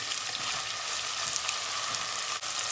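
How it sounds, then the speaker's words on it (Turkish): Tough butcher's meat searing in a pan on a home stove, a continuous close, loud sizzle with dense crackling hiss throughout and no talking. "Et suyunu atmasın bir kavrulsun"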